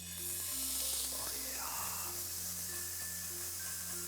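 Honey-marinated Asian grilled chicken sizzling on a grill after being flipped, a soft continuous hiss and crackle with a brief louder burst near the start, fairly quiet under a low steady hum.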